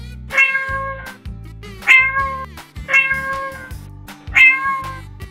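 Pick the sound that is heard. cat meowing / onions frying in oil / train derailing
cat meowing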